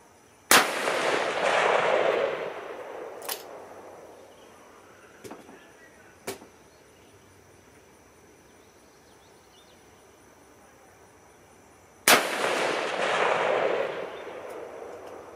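Taurus Raging Hunter .454 Casull revolver fired outdoors: two loud, sharp gunshots about eleven seconds apart, each with a long rolling echo, plus a few faint clicks in between.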